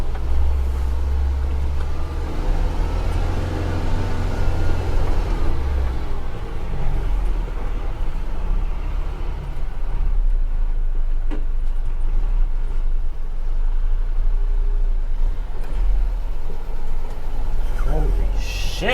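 A German Unimog truck crawls downhill over rough off-road terrain, its engine holding a steady low drone at about 1400 rpm with clanks and rattles from the cab throughout.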